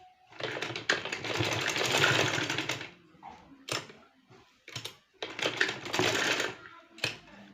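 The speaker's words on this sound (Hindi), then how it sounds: "बैक साइड में फोल्ड करते ही आप इसको स्टिचिंग कर लें।" Electric sewing machine stitching lace onto the back fold of a kurti, running in close, loud whirring bursts of a couple of seconds each, separated by short pauses and small clicks.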